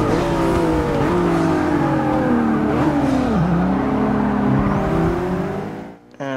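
A McLaren 650S Coupe accelerates hard, its engine rising and falling in pitch through gear changes, loud and close, before cutting off abruptly near the end.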